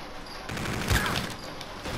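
Desert Eagle pistol gunfire in the Call of Duty: Infinite Warfare video game: a loud, close burst of shots near the middle, ringing out over a steady background din.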